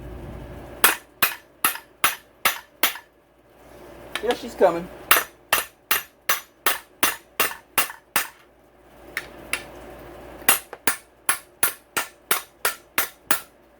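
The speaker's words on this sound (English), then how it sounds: "Let me get a real hammer here." A hammer knocks the crankshaft out of a Suzuki RMZ450 engine case in sharp, evenly spaced metallic strikes, delivered in three long rapid series. A short pause in the middle carries a brief spoken remark.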